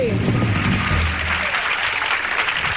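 An audience at a live comedy show claps and cheers in loud, dense, continuous applause that holds steady throughout, with a host's voice briefly audible at the start.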